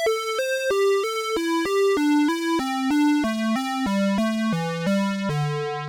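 A Roland Juno-106 synth plays a descending run of about fifteen short tones in Poly 2 mode, each note gliding quickly into the next with fast portamento, bright and harmonically rich, moving steadily lower in pitch with no voices.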